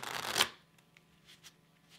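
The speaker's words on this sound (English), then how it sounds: "The deck was then shuffled with some cards face up and some cards face down." A deck of playing cards is shuffled with some cards face up and some face down: a quick, crisp riffling burst up close, then a few faint soft card rustles in a quiet room.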